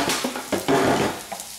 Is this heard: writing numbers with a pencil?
no